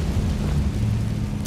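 A Confringo fire spell blasts in the Hogwarts Legacy video game, a low, rumbling, explosive roar that stays loud and steady, then snaps into a sharp, bright crack at the very end.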